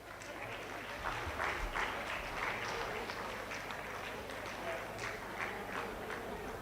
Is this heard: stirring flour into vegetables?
no